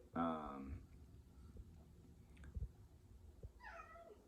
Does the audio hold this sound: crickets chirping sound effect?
no